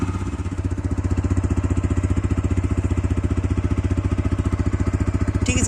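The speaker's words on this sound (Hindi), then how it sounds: "इसका डिज़ाइन के साथ साथ इसका जो एग्जॉस्ट साउंड है वो पहले से बदल चुका है" Single-pipe exhaust of a motorcycle with a changed exhaust note, steady close-up idle with a regular rapid thump lasting the whole clip, loud and alone with no talk.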